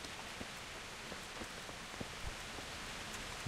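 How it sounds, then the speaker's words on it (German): Soft, steady rain patters continuously in the video game Kingdom Come: Deliverance, with faint scattered drips, quiet and even, no voices present. "Oh, regnet."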